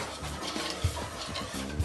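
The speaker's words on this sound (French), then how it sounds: "Et on va le remettre sur le feu à cuire pendant 2 minutes, toujours en remuant." A spoon stirs a mixture in a saucepan on the heat, giving a continuous soft scraping swish with faint rhythmic knocks against the pan, close and fairly loud, with no talking.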